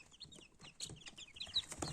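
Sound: Lakenfelder chicks peeping

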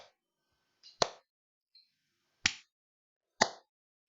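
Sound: hands clapping close to the microphone

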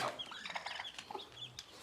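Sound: chicken clucking inside the house

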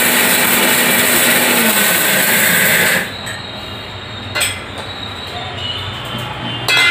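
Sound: mixer grinder grinding coriander seeds into coarse powder

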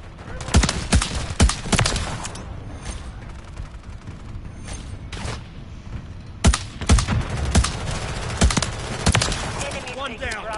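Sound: gunfire in the video game Call of Duty

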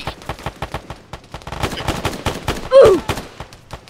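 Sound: gunfire in a video game

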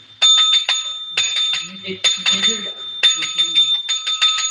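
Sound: bicycle bell ringing

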